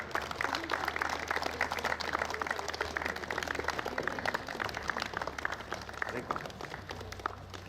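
Applause from the audience at a sports championship medal ceremony in Mussoorie, a steady wash of clapping running the whole length at moderate level, with crowd murmur and voices mixed in.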